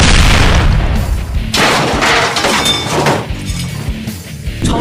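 A powerful punch from a furious cartoon monster lands as a loud, booming impact with a crash-like burst, followed by rumbling, smashing debris noise that stays heavy through the clip.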